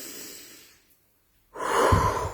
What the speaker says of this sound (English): you want to inhale deeply through your nose and exhale through your mouth